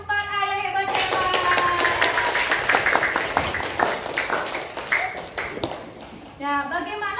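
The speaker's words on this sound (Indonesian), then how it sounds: "tepuk tangan untuk semua kelas 4A yang hebat-hebat" Class 4A of primary pupils clapping together in a classroom, a dense burst of quick hand claps lasting several seconds, with voices speaking just before and after.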